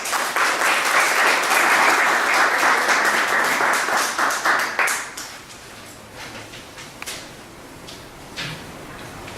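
Audience applause welcoming Melanie Carter and her students at a talk on student book initiatives, steady clapping from a crowd for about five seconds that then thins to scattered claps.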